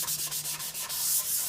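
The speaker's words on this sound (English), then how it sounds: "just sand it as much as you feel is necessary to get that little bit of textured feeling off of your board and get it smooth again" Sandpaper rubbing back and forth along a wooden board to smooth its textured surface, a steady rhythmic scratchy stroking sound heard up close with no talk.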